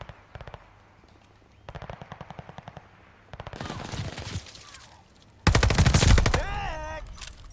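Bursts of automatic gunfire in Call of Duty Vanguard rattle off in rapid strings, growing louder and denser until a heavy close volley erupts, followed by whining ricochet-like tones; no voices.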